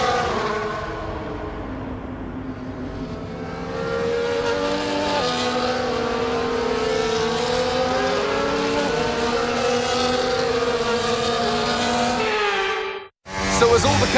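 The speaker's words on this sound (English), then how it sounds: "The formation lap gets underway, and every driver will be looking to settle in for the race ahead" F1 cars on a formation lap in the F1 24 racing video game, engines droning steadily with rising and falling whine as cars pass close, ending in a brief cut and a renewed roar.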